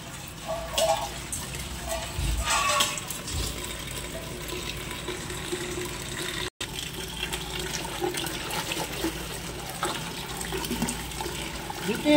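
Sliced taro stolons are rinsed repeatedly in water, with sloshing, swishing and trickling sounds close up and a brief pause partway through.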